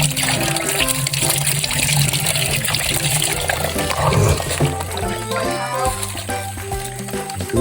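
Tap water gushes into a house in the Philippine mountains, a continuous loud rushing flow under an overlapping voice and a noisy, busy background.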